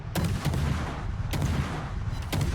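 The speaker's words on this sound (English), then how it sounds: "It's firing HE instead of the SAP shells, I think. And I've got all 6 guns trained on Sherman." Naval guns of the destroyer Gearing fire HE shells in a naval combat game, with three sharp, loud booming salvos spaced about a second apart over a continuous rumbling background.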